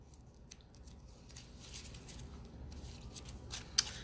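Tarot cards being shuffled by hand, soft rustling with scattered light flicks and taps, close and quiet, one sharper snap near the end.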